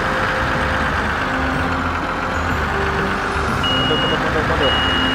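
Truck reversing beeps in Farming Simulator 17, a steady repeating electronic beep over a loud continuous engine rumble, with a voice talking now and then.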